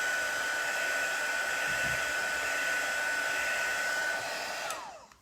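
A handheld heat tool blows hot air over a chalk craft project, a steady loud whooshing hum with a fixed whine that runs for several seconds and then winds down abruptly.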